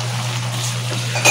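A metal utensil scrapes and clinks in a pot of boiling crabs cooked with jackfruit, with one louder clatter near the end over a steady low hum.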